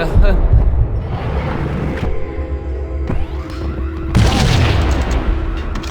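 A grenade explosion in the 2001 Max Payne game. A loud boom lands near the start and a second burst comes later, both ringing out amid game noise.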